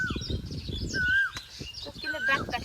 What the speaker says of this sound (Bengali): কোকিলের ডাকটা কেমন লাগে?